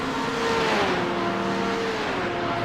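Porsche GT3 race cars in the iRacing sim at Monza drone steadily at high revs, a continuous engine whine with slowly shifting pitch and no speech over it.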